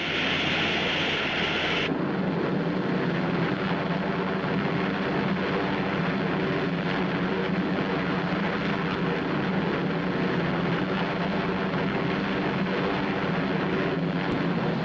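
A B-29 bomber flies steadily overhead with a loud, sustained droning roar of its piston engines, constant throughout with wind-like rushing and no talk.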